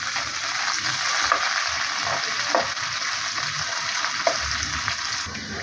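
Onions fry in about half a cup of hot ghee, giving a loud, continuous sizzle with occasional stirring scrapes and soft pops throughout, with no voices.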